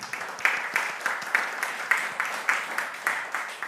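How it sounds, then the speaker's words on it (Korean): A church congregation at a conference applauds to welcome a newcomer, steady moderate clapping with a regular pulse of louder claps running throughout. "박수로 우리 환영합시다"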